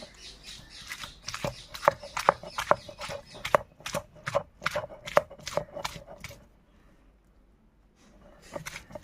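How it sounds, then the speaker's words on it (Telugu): Onion paste with green chillies pounded by hand, a rapid run of sharp rhythmic thuds for about six seconds, then a pause before the pounding resumes briefly; close and loud. "ఈ ఉల్లిపాయ పేస్ట్లోనే ఒక 5 పచ్చిమిరపకాయలు కూడా వేసుకుని దీంట్లోనే కొట్టుకుంటున్నానండి నేను."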